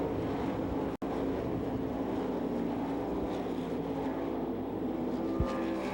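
Sprint race cars roar around Knoxville Raceway at the Masters Classic, a steady, dense engine drone from a pack of cars that holds for several seconds, broken by one brief dropout.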